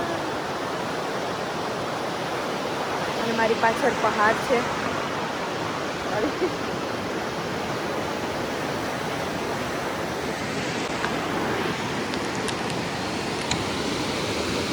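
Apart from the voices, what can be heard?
glacier-fed blue river flowing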